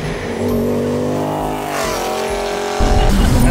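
A car roars at high revs during a burnout at 5,500 rpm in third gear, a loud, sustained engine howl with rising pitch and a harsh tire squeal, surging louder near the end.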